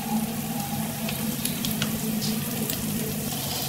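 Spices with turmeric and chili powder fry in hot oil, giving a steady, close sizzle with faint crackles for a few seconds and no talking.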